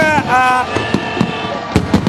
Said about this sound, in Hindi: मीनार पाकिस्तान से आतिशबाजी आतिशबाजी का सिलसिला जारी है